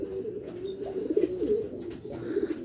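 Racing pigeons in a breeding loft give low, throbbing coos one after another, fairly close and steady, with a brief lull near the end before cooing resumes.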